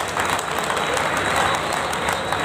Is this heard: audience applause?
yes